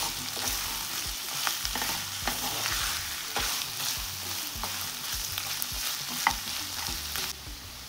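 Green onions frying and being stirred in a pan for a lamb, potato and ginger stew: a steady close sizzle with scraping spoon strokes throughout, no talking.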